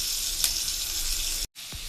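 Onions sizzling in hot oil with a pinch of salt, a steady close frying hiss with a brief stir clink, cut off for an instant before the sizzle resumes.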